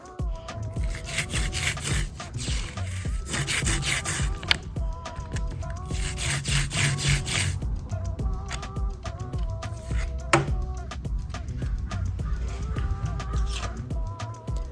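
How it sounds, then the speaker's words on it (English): A brayer rolls ink evenly across a printing plate set on a scrap book, producing a continuous sticky, rasping rolling sound in repeated back-and-forth strokes, close and loud, with no speech. "I just put my plate on the messy book and am evenly rolling ink"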